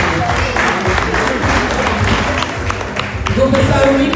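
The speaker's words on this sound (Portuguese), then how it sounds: "Uma salva de palmas." Loud audience applause at a book launch event in London, a thick burst of clapping close to the microphone with some crowd murmur and low rumble beneath it.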